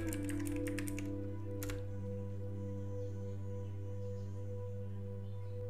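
Quick bursts of typing on a computer keyboard, a rapid run of keystrokes then a couple more taps, faint over a steady electrical hum.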